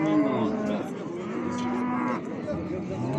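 A Russian-breed cow and calf at a livestock market in Uchqo'rg'on give loud, close, drawn-out moos, one long call running almost continuously with a brief dip, amid faint market background.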